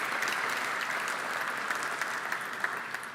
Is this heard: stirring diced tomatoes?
no